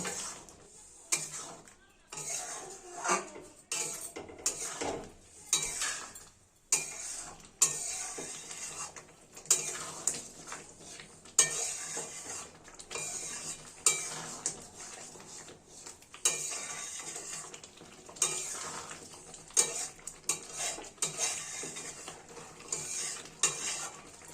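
Potatoes, peas, halved green chillies and ghee being stirred in a pan for a Bengali potato curry, with repeated rhythmic scrapes and clanks of a spoon against the metal pan, close, and soft sizzling between strokes.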